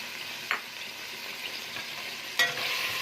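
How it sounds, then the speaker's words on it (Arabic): Onion sautéing in ghee in a pot, a steady soft sizzle with two brief scraping stirs, close and moderate in level. "وهفضل اشوح فيها لحد ما تصفر"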